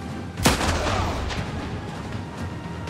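A grenade is thrown and bursts in the Last Train Home video game, a single sharp blast followed by a rumbling tail over a steady background of battle noise.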